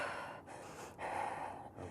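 Deep, fast, noisy breathing demonstrated by a person, with heavy rushing inhales and exhales in a steady repeating rhythm and short pauses between breaths, close and fairly loud.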